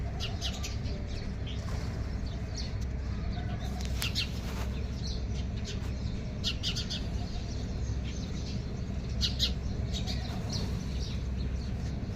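Sparrows chirp in short, scattered bursts through steady low background noise outdoors, the calls faint to moderate and irregular with no talking.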